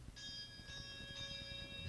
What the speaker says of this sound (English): The ship's bells ringing.